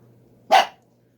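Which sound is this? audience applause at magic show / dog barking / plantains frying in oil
dog barking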